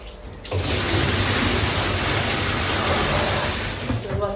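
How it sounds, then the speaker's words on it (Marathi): Water pouring steadily into a washing machine drum, a loud, close, continuous rushing splash that starts abruptly and runs for several seconds before easing slightly. "तर मी पहिला पाणी टाकून घेते."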